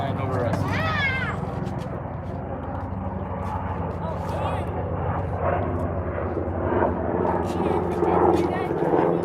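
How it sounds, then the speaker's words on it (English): A helicopter passes overhead as a low, droning engine rumble that lasts throughout, heard beneath people talking nearby. "there's a helicopter flying over us"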